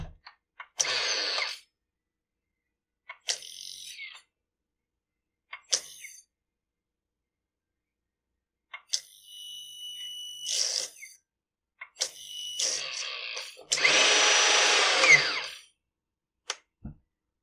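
A Husqvarna T542iXP battery chainsaw cuts into a log in several separate bursts of buzzing with silent gaps between them. The final burst is the longest and loudest, and no one talks.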